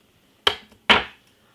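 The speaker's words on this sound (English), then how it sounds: "I'm cutting half of a lemon" A knife cuts a lemon in half on a board with two sharp, close knocks about half a second apart, each followed by quiet.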